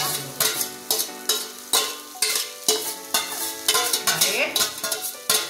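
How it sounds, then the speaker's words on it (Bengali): Maggi masala noodles and fried vegetables are stir-fried together in a pan, with a steady series of loud, rhythmic scrapes and clanks from the spatula over a continuous sizzle. "এবার সবজি ভাজাগুলো দিয়ে মিশিয়ে নেব"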